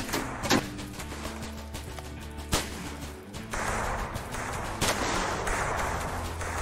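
Gunfire in a Ned Kelly video game: a few sharp, isolated shots crack out over a low rumbling backdrop, followed by a louder, busier stretch of game noise.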